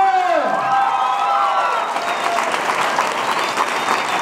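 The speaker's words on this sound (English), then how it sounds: "Make some noise for Morelia!" A loud crowd at a school poetry slam breaks into sustained applause and cheering, dense clapping filling the space as a voice trails off at the start.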